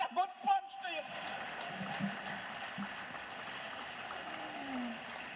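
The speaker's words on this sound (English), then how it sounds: "give them a wonderful hand of applause today" Audience applause at a mobile app launch event, a steady distant patter of clapping after a few loud opening claps, faint and continuous to the end.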